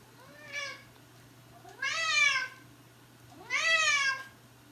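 A cat meows three times, one brief call followed by two longer drawn-out ones, close by and alone against a quiet room.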